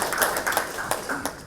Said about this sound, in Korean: 큰 박수로 좀 맞이해 주시기 바랍니다